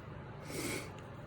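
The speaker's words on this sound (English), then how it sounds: "for all the sniffing. My sinuses are driving me nuts." A single short, faint nasal sniff from a person with sinus trouble, heard alone in a quiet indoor room.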